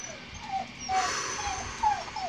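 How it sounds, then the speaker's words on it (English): A dog whines in a series of short, high, rising whimpers repeating at irregular intervals over steady outdoor background noise. "Whiny dog."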